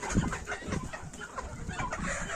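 A Minorca hen clucking in a farmyard, a few short close clucks over a busy background of other poultry sounds, with no voices.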